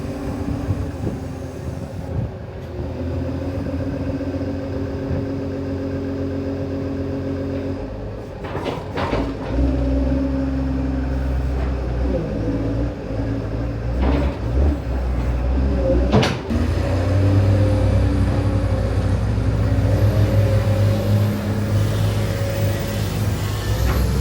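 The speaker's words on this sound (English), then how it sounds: "Got 2 loaders running now" Two wheel loaders run together while backfilling on a building site, giving a steady, loud diesel drone with deep low rumble, occasional clanks and scraping, and the engines swelling louder partway through.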